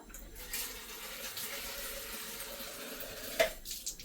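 Saved ginger-and-masala rinse water pouring from a container into a pot of Andhra-style mutton curry, a steady soft splashing stream lasting throughout, with one brief louder clink near the end.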